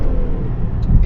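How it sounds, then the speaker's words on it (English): Supercharged V8 engine of a Range Rover Sport pulling hard under acceleration, a steady low, dense rumble heard from inside the cabin that swells slightly toward the end, with no talking. "just listen to the sweet soundtrack of the V8. As soon as you put your foot down"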